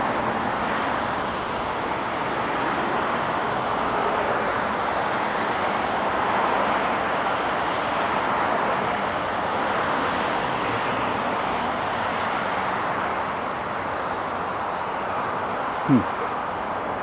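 Traffic streams along Storrow Drive in Boston, heard from a footbridge above as a constant, even roar of passing cars, with no distinct horns or pauses.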